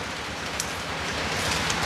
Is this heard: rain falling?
yes